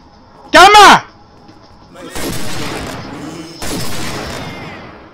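Gunfire in the video game Scarface: The World Is Yours, with two loud bursts of shots separated by gaps, after a brief shouted voice at the start.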